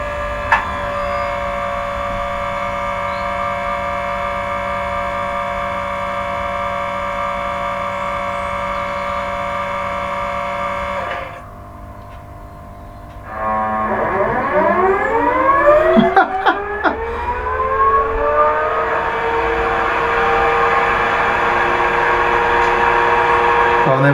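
Accurascale Class 92 electric locomotive model in Caledonian Sleeper livery moving at speed step 10, with a steady layered electronic hum and whine that dips briefly, then rising swept tones and a few clicks as it gets under way.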